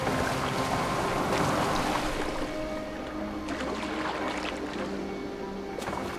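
A boat rowed across open water in Assassin's Creed Valhalla: continuous sloshing and lapping of water with soft oar splashes, carried under a steady tonal game soundtrack, moderately close and even in level throughout.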